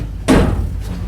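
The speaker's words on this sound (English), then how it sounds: "And then I'll go up here and open the door so you can see." Metal nose door on CVSR 6780, a stripped-out diesel locomotive, swinging open with a single solid thud-like clunk and a brief rattle, close by and alone.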